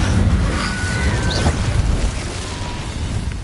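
An Incendio fire spell from Hogwarts Legacy on PS5 erupts in a deep, sustained whooshing roar with a brief bright flare midway, rumbling steadily for several seconds before easing off slightly.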